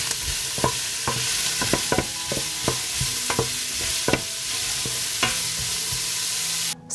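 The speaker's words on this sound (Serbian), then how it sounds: "Promešat ću i pržiti 5 minuta." Onion and celery stirred and frying in olive oil in a pot, with repeated spoon scrapes and knocks over a continuous close sizzle.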